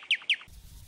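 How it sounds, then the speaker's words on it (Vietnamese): Two quick, bright chirps from a nightingale ring out one after the other, clear and close, then break off into a faint low hum. "Nightingale."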